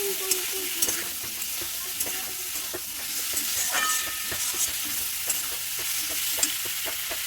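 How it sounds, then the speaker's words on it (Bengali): Potatoes are stirred with spices in a hot frying pan, giving a steady close sizzle broken by regular scraping and clinking strokes of the spatula, with no voices. "এটিকেও নেড়ে চেড়ে নেবো মশলার সাথে"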